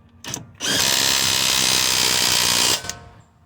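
Power tool tightening a sway bar link on a 2009 Toyota Corolla, a loud close whirring burst of about two seconds, with brief clicks before and after.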